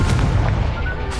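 Explosive Confringo spell blast in Hogwarts Legacy, a short loud booming burst with a heavy low-end rumble that fades quickly.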